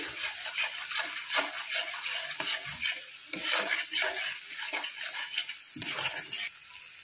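A spice paste with chili powder fries in a pan for a fish curry, with repeated spoon scrapes and stirring strokes over a continuous sizzle and an occasional metallic clink, close and unaccompanied by speech.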